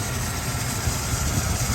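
A 1987 Chevrolet Silverado 4x4 pickup's 5.7-liter engine idles steadily, a close, smooth low rumble holding an even level throughout with no voices.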